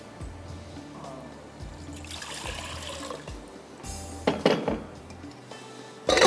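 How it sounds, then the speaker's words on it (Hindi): Water poured into a pan on the stove ahead of boiling noodles for shrimp chow mein, a trickling stream with clinks of metal cookware, a brief lull, then louder knocks and splashes near the end. "यहाँ पे पानी डाल देते हैं हम।"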